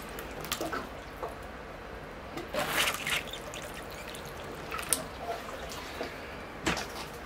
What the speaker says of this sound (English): I'll give that a water. Here I go. Let that soak in. Water again.